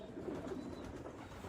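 Young pigeons at a free loft, fresh from flying in the rain, give soft, steady cooing close by with no one talking.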